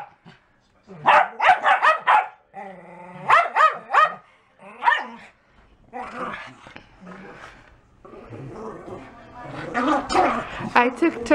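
A dog barks in quick bursts close by, mixed with whining and growly vocal noises, and a person's voice joins in partway through.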